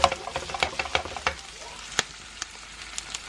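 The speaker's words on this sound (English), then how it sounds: "That sugar is going to caramelize around the pork belly, getting it extra crispy." Pork belly frying with sugar in a pan on a stove, a close sizzle broken by sharp scraping stirs at a quick irregular pace that slows to a few sparse clicks.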